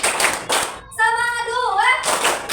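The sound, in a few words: rhythmic 'tepuk semangat' clapping by class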